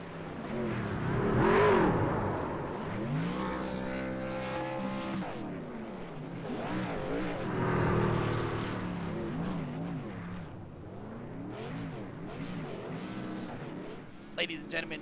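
Number 2 Chevy Silverado race truck in a racing video game crossing the front stretch at the Chicago street course, a loud engine drone rising and falling with gear-shift harmonics, heard under a commentator's voice.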